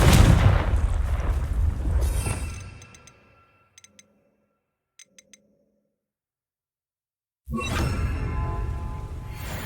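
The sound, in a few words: Bombarda and Confringo spell blasts in video game Hogwarts Legacy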